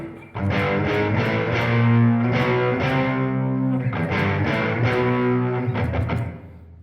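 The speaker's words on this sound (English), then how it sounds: "go over to the MXR Distortion Plus circuit that it should be cloning" An electric guitar played through a budget clone of an MXR Distortion Plus pedal, strummed chords ringing out thick and gritty, a short pause, then more sustained chords fading away.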